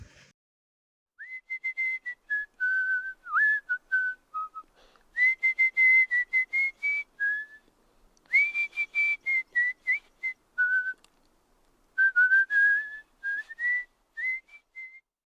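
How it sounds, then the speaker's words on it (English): A person whistles a tune in clear, close, fairly loud phrases, with pitch gliding up and down between melodic runs and short breaths in the gaps. "He whistles a tune to the window"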